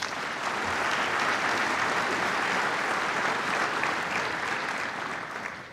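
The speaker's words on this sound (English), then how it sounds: "Let's give them a big round of applause" An audience at the NHRA awards ceremony gives a steady round of applause for the Fox guests, many hands clapping in a full, even roar that holds loud throughout and eases slightly at the close.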